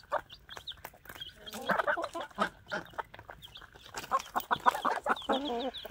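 Wyandotte hens clucking and murmuring close by in a farmyard with geese, bursts of repeated clucks coming and going over several seconds with no talk.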